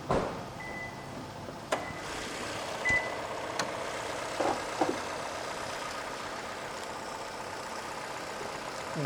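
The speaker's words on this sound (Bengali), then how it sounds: "গাড়িটি সম্পূর্ণভাবে স্টার্ট অবস্থা রয়েছে, সাথে আমরা এসি সহ" A Toyota Premio sedan idles with its air conditioning running, a low steady engine hum heard from nearby, with a few faint clicks and short tonal beeps and no talking.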